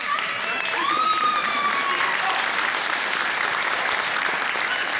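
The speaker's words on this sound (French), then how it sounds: "Applaudissons-nous" Sustained applause from an audience at a mock-trial gathering in a hall, dense steady clapping lasting throughout, with a faint whistle-like tone rising briefly near the start.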